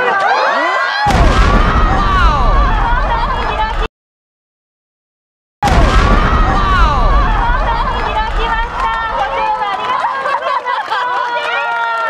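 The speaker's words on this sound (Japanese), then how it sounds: "まもなく素晴らしい花火をご覧いただきますので、どうぞカメラをお持ちの皆様ご準備くださいね。" A huge 900-millimeter water shell firework bursts with a deep, booming explosion over a large outdoor crowd, whose loud chatter and cheering continue throughout, with a brief silent gap in the middle.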